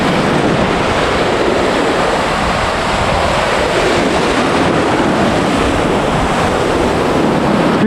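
Surf washes onto the white-sand beach at Varadero, Cuba, a steady loud roar of breaking waves with wind rushing over the microphone the whole time, no voices.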